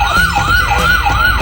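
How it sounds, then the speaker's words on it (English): A toy fire truck siren wails in a loud, close, repeating up-and-down pattern, cycling several times without pause. "This is a fire truck."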